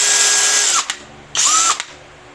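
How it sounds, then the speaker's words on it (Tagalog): A Nanwei brushless cordless drill revs up twice in short bursts, each whine rising then cutting off, loud and close with a brief pause between. "Okay, so ito yung ating drill and tingnan naman natin yung performance niya."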